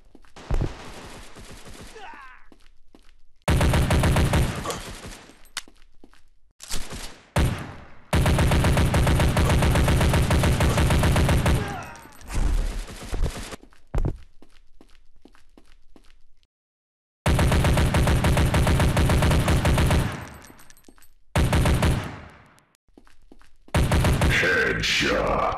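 Gunfire in the Critical Strike CS online shooter comes in loud, dense automatic bursts separated by abrupt silences. The bursts include rapid fusillades and scattered single shots.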